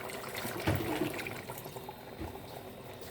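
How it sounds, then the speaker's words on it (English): Water is poured into a pot of thick egusi soup, a soft close splash and trickle that fades into low, steady bubbling and kitchen noise. "I'm just going to add a little bit of water"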